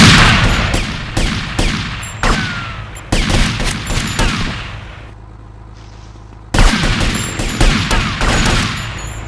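Repeated bursts of gunfire in a shooting scene, loud and close, firing in rapid volleys with brief pauses and a quieter lull midway before the shots resume.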